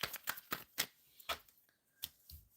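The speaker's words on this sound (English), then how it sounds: "AB, shuffling for AB." Tarot cards shuffled by hand in a series of sharp riffling bursts and soft slaps, close and fairly quiet, with short pauses between.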